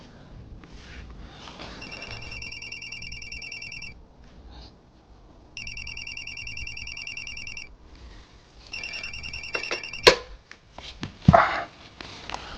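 An old-style landline telephone rings electronically in three repeated bursts of warbling tones, followed by a couple of sharp clicks and clatters.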